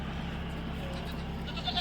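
A goat bleats faintly at a farm on a Philippine island, a short soft cry rising near the end over low steady background hum.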